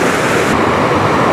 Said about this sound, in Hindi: पानी आ रहा है जी बड़े ज़ोरों शोर से